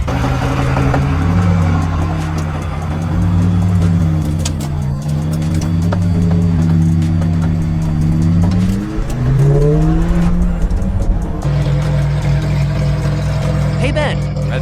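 A McLaren 720S supercar engine, upgraded, hums steadily at road speed, with gear changes and a brief rise in revs midway, loud and close throughout.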